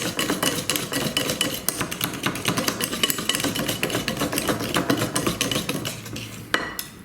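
Eggs whisked by hand into chocolate zucchini cake batter in a bowl, a rapid, steady metallic clatter of whisk against bowl running for several seconds, close and continuous with no talking.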